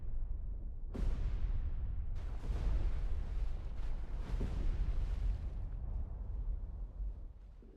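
Depth charges in Destroyer The U-boat Hunter detonating underwater, several deep rumbling booms in a row, each swelling and fading into a long low roar, heavy and distant-sounding.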